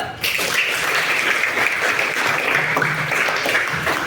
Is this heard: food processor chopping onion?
no